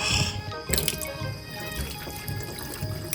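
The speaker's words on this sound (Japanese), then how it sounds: "落とさずにパスタの湯切りするの結構大変ですよね。" At a campsite cooking area sink, hot water is drained off cooked pasta, producing close splashing, pouring and dripping with uneven bursts of running liquid and no talk.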